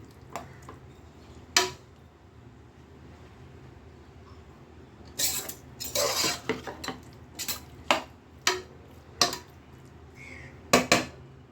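Metal spoon scraping and clanking in a pan while stirring avial, a mixed vegetable curry: a quiet background with scattered sharp clinks that bunch into a busy run of knocks in the second half.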